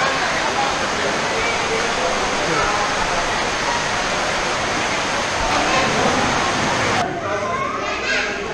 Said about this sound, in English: you put that on top of a big rainstorm to where none of the kids can even hear what you're saying